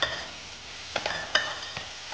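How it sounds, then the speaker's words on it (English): Chopped red onion softening in a pan, a steady low sizzle with a few sharp stirring clicks and scrapes scattered through, close and fairly quiet with no talking. "then you add the red onion, chopped red onion"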